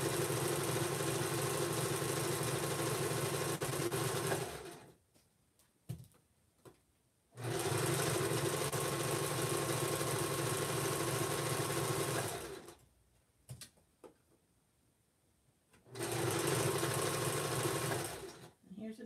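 A sewing machine stitching sweater mittens, double- and triple-stitching stress points: three loud, steady runs of whirring motor separated by quiet pauses with small handling clicks.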